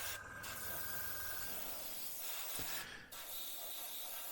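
An airbrush spray-painting the chassis deck supports of a HobbyBoss M1070 and M1000 heavy equipment transporter scale model, heard as a steady close hiss with two brief pauses and faint mechanical clicks.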